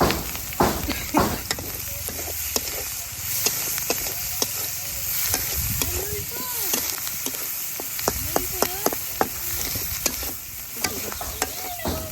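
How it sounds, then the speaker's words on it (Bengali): Chopped onion, green chilli and garlic fry in hot oil with a steady close sizzle, broken by frequent scrapes and clacks of a spatula stirring the pan. "তেলের উপরে একটু তেল দিয়ে দিম পেঁয়াজ কুচি কাঁচামরিচ রসুন"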